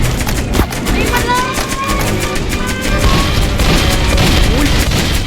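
Roblox gunfire from shooting enemies, a loud, dense stream of rapid shots and booming impacts running the whole time, with excited talk and game music over it.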